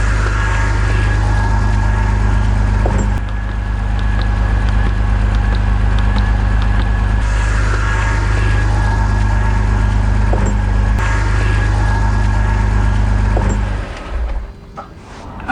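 A BMW E46 idles steadily and fairly loud nearby in a garage, a continuous low engine drone lasting throughout before cutting off near the end.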